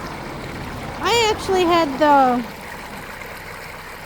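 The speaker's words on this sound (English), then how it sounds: "I've been here an hour filling up my water jugs" Spring water runs steadily into water jugs outdoors in freezing weather, a soft continuous trickle heard close. Someone speaks briefly over it.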